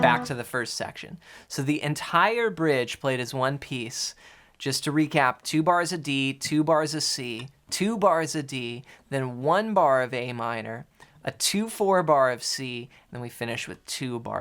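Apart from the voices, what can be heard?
No distinct noise like a dog, phone or traffic.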